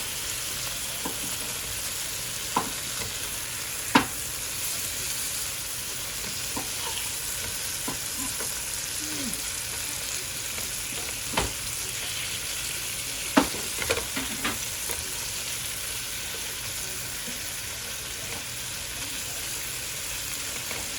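Chicken pieces for chicken Alfredo fry in a pan with a steady broadband sizzle throughout, broken by several sharp clinks and scrapes as the pieces are turned over.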